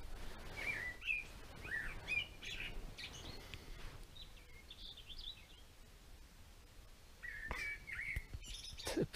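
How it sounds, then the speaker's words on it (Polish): Several birds chirp and trill in bursts from nearby bushes in Norway at dawn, their calls scattered over a soft rustling background with no one speaking. "Te ptaki tu będą teraz w tych krzakach ostro dawać."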